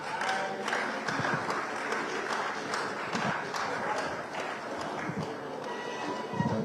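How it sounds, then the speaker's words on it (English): An audience at a stakeholders' gathering in Asaba applauds a chief being welcomed, with steady, dense clapping sustained throughout and a voice speaking over the crowd. "a big round of applause for him"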